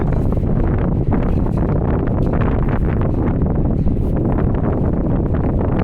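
Strong wind buffets the microphone in a steady, loud roar of low rumble with no letup, recorded outdoors while walking near Water Street and Barrington Street.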